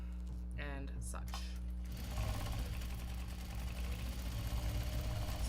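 A sewing machine stitches a Japanese fabric bag, first in short starts and stops, then running steadily with a loud, continuous mechanical whir and hum.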